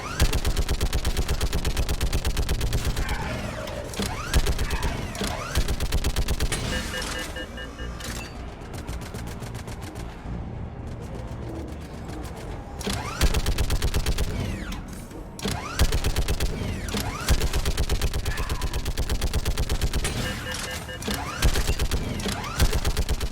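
A mounted gun hammers out long, rapid automatic bursts at husks in Mass Effect 3. The fire is loud and close, with short pauses and mechanical clatter between the bursts.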